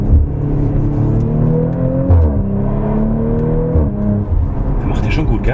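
Audi RS4 Avant B9 in manual mode accelerating, its engine note rising in steady harmonic sweeps with a dip near two seconds and another around four, loud and close beneath people talking inside the car.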